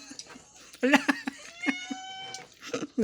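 A pet cat meows in a few short, tonal calls with one longer drawn-out cry in the middle, close and fairly clear, while people talk intermittently around it.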